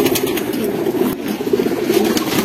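Flock of racing pigeons cooing steadily up close, a dense overlapping warble of low coos with faint rustling and pecking sounds beneath.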